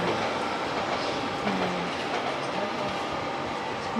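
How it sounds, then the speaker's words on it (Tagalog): A train at a Paris station sends out a continuous, broad rumble of wheels and rolling stock, with faint squeals and clatter. The sound is steady and moderately distant, and no talking is heard. "May train din sa taas."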